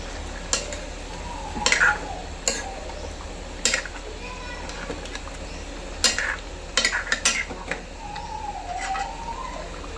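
Chicken curry with Everest chicken masala is stirred in a pan, with several distinct scraping strokes over a low sizzle and birds chirping in the background.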